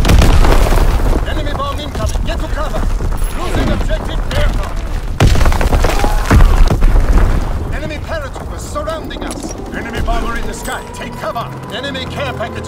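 Heavy booming blasts from an enemy bomb strike in a multiplayer shooter, rumbling in bursts through the first half and mixed with game noise, with voice chatter running throughout.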